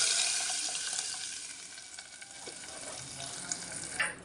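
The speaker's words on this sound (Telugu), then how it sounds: "ఆవాలు, పచ్చిమిర్చి అయితే వేసేసాను." Garlic, cumin, mustard seeds and green chillies frying in hot oil as a tempering, giving a fairly quiet, steady sizzle that fades slightly over the span, with a few small pops near the end.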